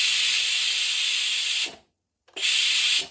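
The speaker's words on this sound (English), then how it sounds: "So I'm just going to let the steam out. Button on the top, it vents that way." Steam hisses loudly and steadily from the top vent of a Cosori electric pressure cooker while making mushroom risotto, cutting off abruptly for half a second before bursting back at full force, then stopping.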